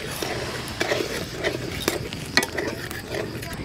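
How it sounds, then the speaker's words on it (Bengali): Soybean curry spices are stirred with a little water in a pan, giving a steady wet sizzle with intermittent spoon scrapes and taps, close and moderately quiet. "জল দিয়ে কষিয়ে নেব"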